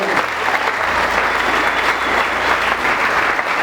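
A church concert audience gives a guest pastor loud, sustained applause, a thick wash of many hands clapping without a break, with some crowd noise underneath.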